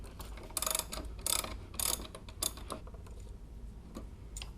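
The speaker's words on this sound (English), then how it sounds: "And then finally remove this last 16mm bolt." Ratchet wrench turning out a 16mm bolt, a few short bursts of quick clicking with brief pauses between, close and moderately loud, with no talking.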